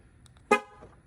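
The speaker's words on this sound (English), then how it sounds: "If we unlock the car, there we go" A Cadillac CT4-V Blackwing gives a single short, loud horn chirp as it unlocks, close by with a quiet background.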